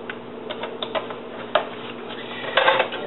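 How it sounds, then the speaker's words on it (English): A tablespoon of oil hits a hot frying pan, giving sporadic crackles and pops that swell into a brief louder burst of spattering near the end. "I'm going to add a tablespoon of oil to my hot pan"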